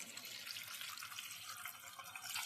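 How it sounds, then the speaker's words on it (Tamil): Water runs steadily from a tap as ivy gourd leaves are rinsed in a kitchen sink, giving a soft, continuous splashing hiss that stays quiet throughout. "தண்ணி ஊற்றி தலையை அலாசிக்கலாம்."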